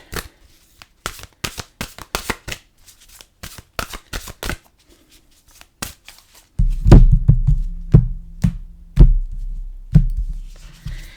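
An oracle card deck is shuffled up close, crisp riffling bursts and taps in irregular clusters, then fuller, heavier shuffling with dull thumps toward the end.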